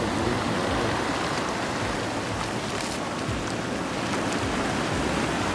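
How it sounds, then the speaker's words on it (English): Boiling hot spring water at Rotorua gushes out at around 40 to 50 litres per second, a steady, broad rushing hiss with no pauses. "boiling water, just sitting at 98 degrees, comes out between 40 and 50 litres per second"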